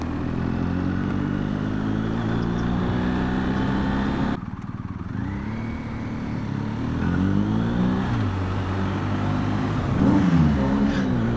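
A BMW R1250GS Rallye motorcycle engine runs steadily, a smooth, even purr heard up close from the rider's position, with a small shift in pitch partway through and light revving near the end.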